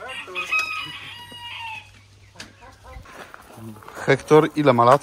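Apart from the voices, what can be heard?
chickens crowing and clucking in an aviary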